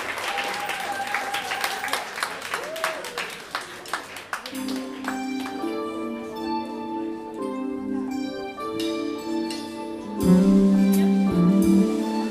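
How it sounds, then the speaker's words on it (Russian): Audience applause at a concert, scattered claps at first that give way to music with sustained tones and a loud low passage later. "Агюн, ваши нереальные аплодисменты."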